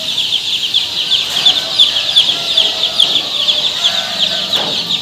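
A dense, steady chorus of high-pitched peeping from many tiger chicken chicks, continuous and overlapping throughout, fairly close.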